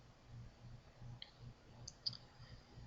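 Mouse clicks on a web page link during a trademark search, a few faint, sharp ticks over a quiet low room hum.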